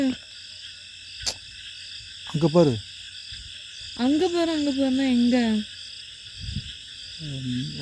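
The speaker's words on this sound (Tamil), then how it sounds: "தவளை அது." A frog croaks in short, rising calls near a snake-filled spot outdoors, heard in separate bursts between people talking nearby, with a steady insect drone underneath.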